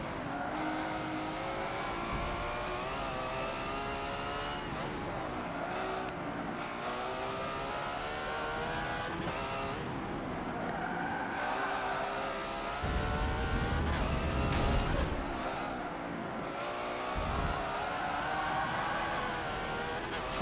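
Hypercar engine roaring at full throttle in Forza Motorsport 7, a loud continuous whine that climbs and drops through gear changes, with brief dips and a rougher rumbling passage near the middle.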